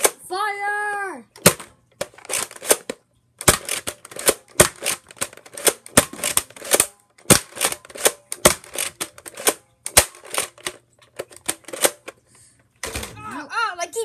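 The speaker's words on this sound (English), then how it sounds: "They keep shooting at us!" Gunfire in an animated FNAF war movie: sharp, separate shots crack in an irregular rhythm, loud and close, with characters shouting between and over them.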